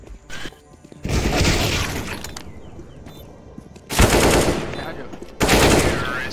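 Loud machine-gun bursts in a video game: an opening crack, then a long rattling volley around one to three seconds, followed by two more sharp bursts near four and five and a half seconds.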